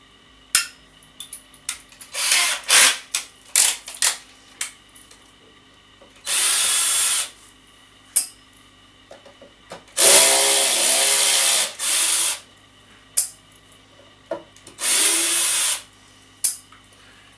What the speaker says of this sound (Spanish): el taladro está en el embrague más bajito